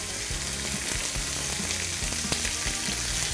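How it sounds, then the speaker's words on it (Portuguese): Chicken pieces searing in a thin paella pan, giving a dense, continuous sizzle of hot fat with faint clinks and stirring sounds underneath, close up and without talk. "eu já começo colocando os franguinhos aqui para selar"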